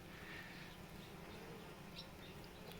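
Honeybees around a hive, a steady close drone of buzzing wings that fills the whole stretch at a low, even level, with no speech.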